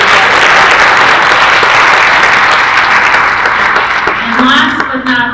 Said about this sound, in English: a huge round of applause for all of our volunteers today